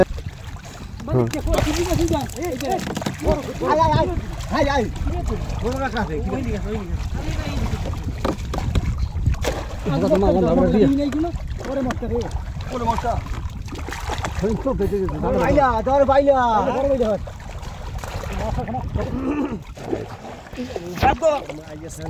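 A boat moves along a river while someone talks almost continuously over it, the water sloshing, splashing and trickling steadily underneath for over twenty seconds during a riverside fishing trip for shrimp.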